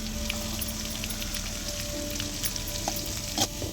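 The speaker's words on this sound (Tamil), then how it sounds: "நல்லா வதக்கணும்" Cabbage with ginger garlic paste sautéing for roadside-style egg noodles, a continuous close sizzle with occasional scrapes and taps of a spatula stirring in the pan, no one speaking.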